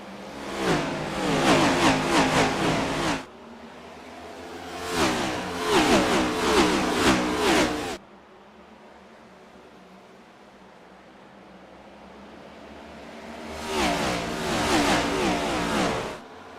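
Sim race cars of a next-gen stock car series on the Iowa oval roar past in three loud sustained bursts of engine noise, separated by quieter stretches of low background hum.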